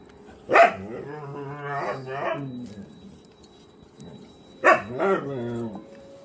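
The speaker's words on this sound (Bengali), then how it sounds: "আজকে কুকুরটা এত চিৎকার করছে, বাপরে বাপ।" A dog barks loudly nearby, two sharp bursts separated by a pause, with a person talking in between.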